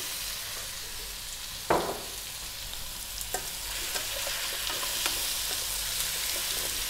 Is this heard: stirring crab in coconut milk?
yes